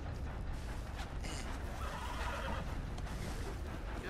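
A video game horse whinnies amid a dense, noisy game soundscape, the neigh rising briefly over constant rumbling background sound.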